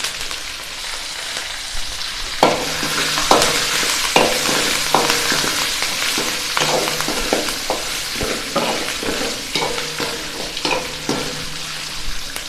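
Loud, continuous sizzling of green chillies and curry leaves frying in hot oil, with repeated scraping and stirring clicks of a utensil against the pan.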